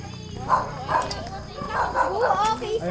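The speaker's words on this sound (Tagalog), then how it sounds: "May aso." A dog barks several times in short yips and bow-wows at night in a rural Philippine yard, mixed with people talking nearby.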